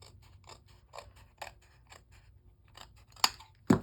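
Scissors cut through card paper while making greeting cards, a string of crisp snips spaced about half a second apart, close and fairly quiet, ending in two sharper, louder cuts.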